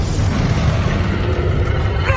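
A Bombarda spell explodes in Hogwarts Legacy with a loud, dense boom that sustains a deep rumble with broad noise for about two seconds.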